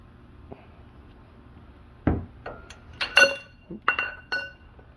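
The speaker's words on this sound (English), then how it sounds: "I'm going to use a 1/2 inch wrench and 18, and then my breaker bar to crack these loose" A socket wrench and breaker bar cracking loose the lug nuts on a 2015 Ram 1500 2WD, with a few sharp metallic clinks and clacks spaced out after a quiet start.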